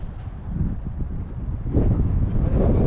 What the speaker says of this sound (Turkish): Birazcık da rüzgar var bugün.